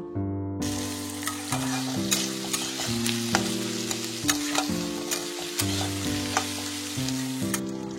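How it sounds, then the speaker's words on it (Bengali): Chopped onions fry in oil until golden brown for mutton kala bhuna, a steady close sizzle punctuated by regular rhythmic clanks of a spatula stirring against the pan. "দিয়ে আমি এই পেঁয়াজটাকে মোটামুটি গোল্ডেন ব্রাউন করে ভেজে নেব।"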